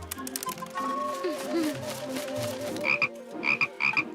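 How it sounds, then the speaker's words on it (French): Several short cartoon frog croaks sound over a busy musical background, with a bright chirping trill repeating near the end. "Une grenouille."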